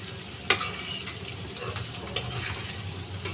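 Pangasius fish pieces sizzle in hot oil in a pan while a utensil stirs them, giving a constant frying hiss broken by a few sharp scraping clinks near the microphone.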